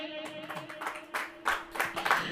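A church congregation claps hands in a loose, uneven burst of claps, growing louder toward the end, with faint murmuring in the background.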